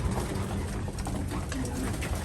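Young pigeons in a loft cooing softly under a steady, dense background of rustling and bird chatter, continuous throughout with no talking.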